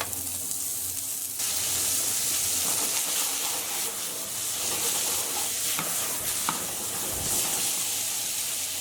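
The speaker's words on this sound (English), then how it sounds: "once our pan's hot, we'll slowly start adding in our meat." Sliced meat for iskender kebab sizzles in hot oil in a large pan, a sudden loud hiss swelling in and holding steady, with scattered crackles and stirring scrapes, close and without speech.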